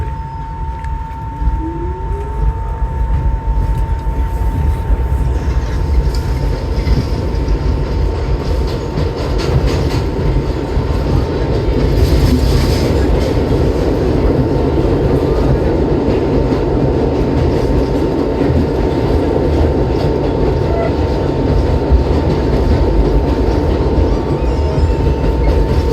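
New York subway train riding the 2 and 3 line, a steady loud rumble of wheels and car noise with a constant electrical whine, continuous throughout with no talk.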